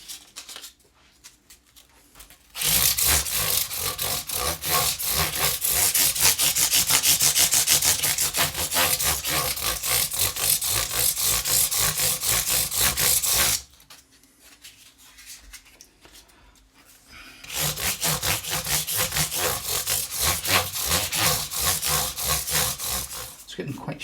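Frets on a Gibson Les Paul Studio are sanded with 400 grit sandpaper, making steady rapid back-and-forth rasping strokes up close, in two long runs separated by a short pause.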